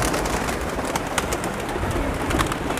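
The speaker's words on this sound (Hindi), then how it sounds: "अपने सभी के सभी कबूतरों को धूप जाल से बाहर निकालने का" Pigeons coo softly and repeatedly over a background of flapping and shuffling, with several birds close by.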